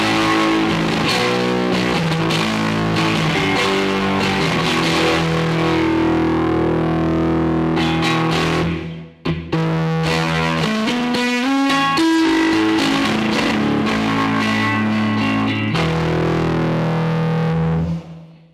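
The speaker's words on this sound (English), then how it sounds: "A very growly sound all the way up on the gain." An electric guitar plays through a Maekloeder Dual Channel 5000 pedal with the gain turned all the way up, giving loud, thick, growling distorted chords and riffs with a brief break midway before the playing resumes.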